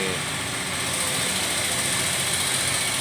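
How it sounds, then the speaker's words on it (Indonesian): A tractor's heavy diesel engine idles steadily and loudly as it prepares to drive onto a trailer truck, a continuous low rumble with broadband mechanical noise and no breaks. "alat berat mau naik ke mobil ya"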